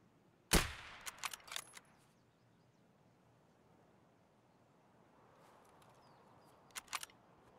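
Escape from Tarkov machine gun fire: one sharp, loud shot opens, followed by a short clipped burst of rounds, then quiet before a fainter, more distant burst near the end.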